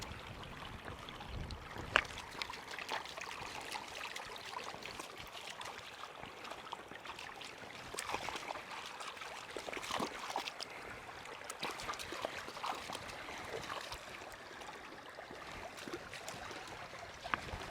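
Gentle splashing and trickling water as a dog paddles in a shallow Dartmoor stream, with irregular sloshes as it moves through, fairly close and without voices.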